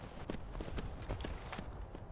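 Horse hooves clip-clop in Skyrim, a quick, regular run of thudding footfalls, close and fairly loud, over a rumbling background without talk.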